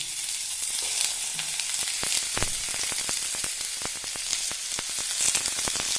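Chopped large onion frying in oil in a pan for tomato theeyal, a dense close sizzle with frequent sharp pops and crackles, stirring clatter throughout, no talking.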